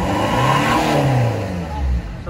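A Baleno diesel car with a straight pipe exhaust revs up close and loud, a rough rising engine drone with rumbling low tones that swells and then eases off.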